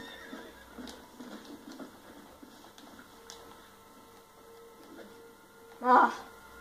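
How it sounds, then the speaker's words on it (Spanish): A fire horse in the video game Red Dead Redemption gives a short, sharp whinny near the end, after a stretch of faint hoof clatter and quiet game ambience. "¡Qué valioso es ese caballo! ¡Qué bonito!"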